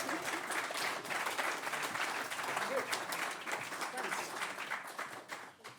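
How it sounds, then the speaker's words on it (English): An audience at a conference on democracy in the Sahel applauds in a steady, dense wash of clapping that holds throughout and eases slightly at the end. "Let's give them applause."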